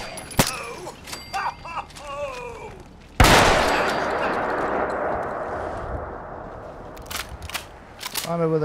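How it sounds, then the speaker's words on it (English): Fallout 4 video game gunfire: a few sharp shots, then one loud blast that rings and decays into a rumble, with more quick shots near the end and voices talking throughout. "Gunshots came from."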